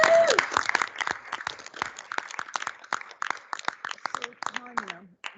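Meeting attendees clap at a board of governance meeting, scattered uneven claps building across several seconds, with a voice speaking over the applause near the end.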